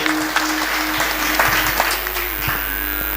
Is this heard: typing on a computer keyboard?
no